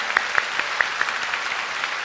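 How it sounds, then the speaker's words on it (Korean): A church congregation applauds to bless and encourage a missionary who has stood up, a dense, steady clapping from many hands filling the hall, with sharper individual claps standing out near the front. "우리 박수로 한번 축복하고 격려하면 좋겠습니다"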